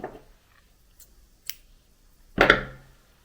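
Scissors cut crochet yarn in a quiet room: a few faint clicks, then one sharp, close snip near the end.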